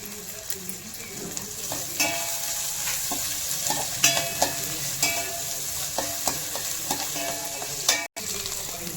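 Onions sautéing in a pan for a fish curry, a steady close sizzle of frying with repeated stirring scrapes and small spoon taps throughout.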